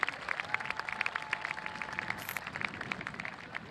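Graduation audience clapping at Brockton High School, a steady patter of many hands, moderately loud and continuous, with no talk over it.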